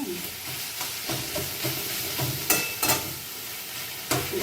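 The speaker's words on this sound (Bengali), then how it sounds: "আলুটা দিয়ে এখন আমি এটা কষাতে থাকবো।" Potato stirred and sautéed with spices in a hot pan for Bengali banana-flower cutlets: a steady close sizzle with repeated scraping stir strokes and a few sharper clinks, no talking.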